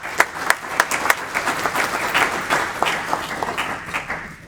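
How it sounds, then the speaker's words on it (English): A meeting audience applauds the panelists at a CCIM Georgia Chapter office panel, a moderate burst of clapping with sharp individual claps at the start that merge into a dense patter and then thin out. "So a round of applause just for that."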